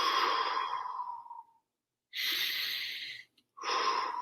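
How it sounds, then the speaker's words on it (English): Deep breaths during a breathing exercise: a long, airy inhale and exhale, then two more breath sounds separated by brief pauses. They are close and clear, with no talking over them. "So just a couple of deep breaths."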